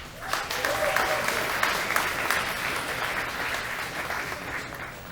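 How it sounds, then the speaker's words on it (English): Crowd applause at a game jam showcase, a dense, sustained wash of clapping from a roomful of people with faint voices mixed in beneath. "Give him a round of applause, come on."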